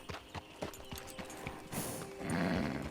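Horse in the Red Dead Redemption 2 video game clip-clops along in a steady rhythm of hoof steps, then lets out a loud whinny as the sound swells near the end.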